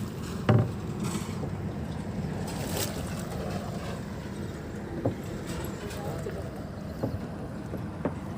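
A small rowboat moves along a river and passes beneath a road bridge at Chahlari Ghat, with steady water wash and wind rumble throughout and a few faint knocks, while people talk over it.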